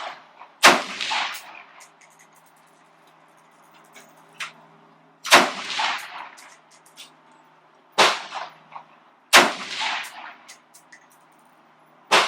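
Four loud AR15 rifle shots crack out at a shooting range, spaced a few seconds apart, each a sharp bang with a short ringing tail, with quieter clicks and handling sounds in between.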